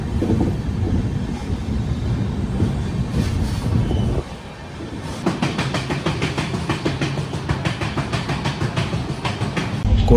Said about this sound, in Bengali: গোটা পাহাড়টাকে কিন্তু ঘুরে ঘুরে পার হচ্ছে ট্রেনটা